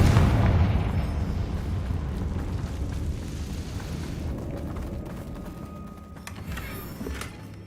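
The Confringo fire spell from the Hogwarts Legacy video game bursts in a deep, rumbling explosion that booms loudest at the start and then fades slowly, with some faint crackling near the end.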